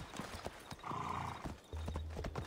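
Rhythmic hoofbeats of a galloping horse with a brief whinny in Assassin's Creed Odyssey game audio, steady and fairly close.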